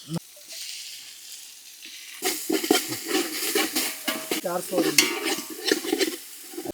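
Ginger paste hits hot tomatoes in a pot for village-style country chicken biryani, and a loud close sizzle of frying bursts in after a quiet start, with brisk stirring scrapes throughout.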